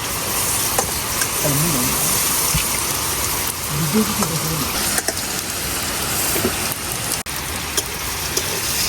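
Heavy rain pours down steadily on a dark rainy day, a dense, loud, continuous hiss of falling water with occasional louder drips, and faint talk briefly in the background.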